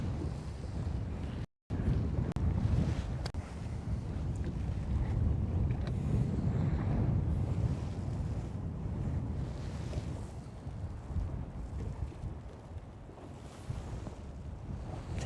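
Wind blows across Lake Guntersville as heard from a fishing boat, a loud continuous rumbling gust with buffeting wind noise on the microphone and water lapping, broken by one brief dropout near the start.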